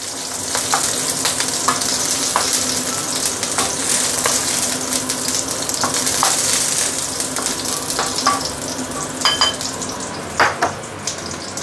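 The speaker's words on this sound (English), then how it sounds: "So you want to make sure your oil is very hot before you put in the fish" Fish frying in very hot oil for a milky fish soup, a loud continuous crackling sizzle with scattered spits and pops and occasional stirring, close by, no talk.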